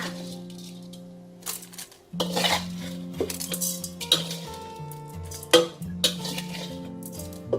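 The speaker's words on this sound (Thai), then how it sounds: "ตักข้าวใส่หม้อเลยค่ะ" Stir-fried rice for oily rice is scooped from a pan into a cooking pot, with repeated metal scrapes, clanks and clinks of a utensil against cookware over a steady tonal hum.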